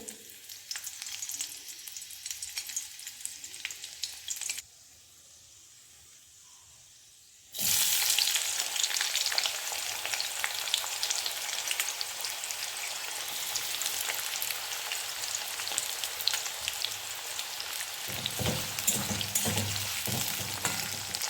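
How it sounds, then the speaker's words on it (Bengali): Chopped onion and a little chopped garlic fry in a pan, a steady close hiss of sizzling oil that briefly drops away and then returns louder and fuller, with faint stirring underneath. "পেঁয়াজ একটু ভাজা ভাজা হবে"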